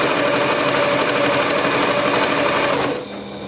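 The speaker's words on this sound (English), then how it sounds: "I'm just going to go ahead and keep sewing down" A sewing machine stitches fabric for a scrunchie, running loud and close in a fast, even mechanical rhythm for about three seconds before it stops abruptly.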